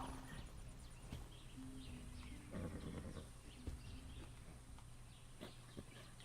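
Horse in the video game Far Cry 6, quiet hoof clip-clops with a brief whinny amid low ambient game sound and faint birdsong, soft and steady throughout.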